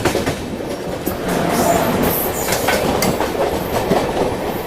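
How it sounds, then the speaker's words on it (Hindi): Train passing on a railway line in India, loud and close: a continuous rumbling roar with rhythmic clickety-clack of wheels over rail joints and metallic rattling, sustained throughout. "यहाँ बीच में कोई ट्रेन भी आ रही है।"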